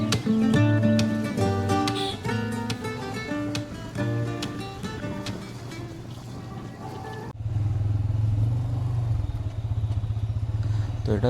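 A motorcycle rides along a village road near Manteswar, its engine a steady close drone that grows louder and rougher in the last few seconds, with music-like tones playing over the first part.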